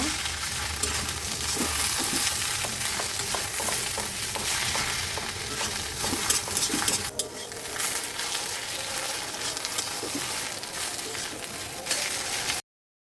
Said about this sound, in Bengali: এটা একটু সময় নিয়ে লাল লাল করে ভেজে নিব।